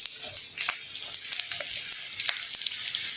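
Thickly cut onions and spring onions fry in a pan for baby corn manchurian, crackling with a bright, steady sizzle. Frequent sharp ticks and pops sound close up.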